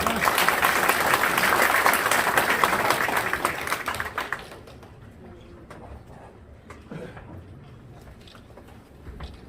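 Reporters applaud at a mayor's first-anniversary press conference in Suwon, a dense burst of clapping that fills the first half, then thins and fades into a quiet room with scattered small sounds.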